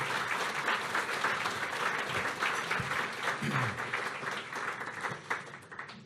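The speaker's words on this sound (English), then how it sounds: "And let's give them a round of applause of their very own." Dense, sustained clapping from an audience at a women-in-music reading event, a full even roar that starts strong and tapers slightly toward the end, with a few low murmurs underneath.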